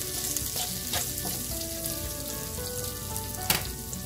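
Potatoes frying in a pan over a medium flame, seasoned with turmeric and salt while they crisp before green beans go in; a steady close sizzle runs throughout with occasional scrapes and stirring clicks.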